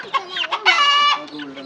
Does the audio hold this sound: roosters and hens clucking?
yes